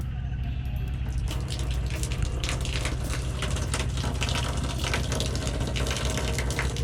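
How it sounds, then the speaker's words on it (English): Water pours steadily from an outdoor shower at an ecolodge in the Dominican Republic, a constant close hiss and splash with a low rumbling undertone, unbroken throughout. "Here's your own private little shower"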